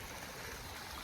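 Water flows steadily in a small stream beside rice paddies in rural Konkan, a continuous soft rushing with no pauses.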